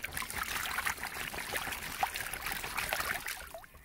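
Feet splashing and kicking in water, a soft continuous trickling and sloshing with a few small splashes, faint and close, with no talking.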